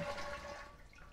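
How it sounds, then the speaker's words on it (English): A household toilet flushing as its handle is pulled to drain the tank, water rushing loud and close at first and then easing off into a gentler draining wash. "drain the toilet by pulling the handle here and going ahead and letting all the water go ahead and drain out of the back of the tank"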